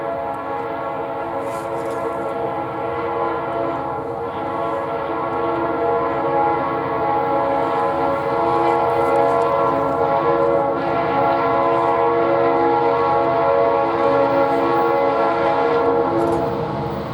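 Leslie RS3L air horn on a Buffalo & Pittsburgh SD60 locomotive, number 3883, sounding a loud, sustained multi-chime blast that holds steadily for the whole stretch, close and dominant as the train approaches through town.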